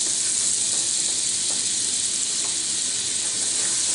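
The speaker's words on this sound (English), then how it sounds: "we're going to add the butter into the hot pan. Look how hot that is" Steady, loud sizzling hiss of butter frying in a hot pan, continuous throughout with no voices.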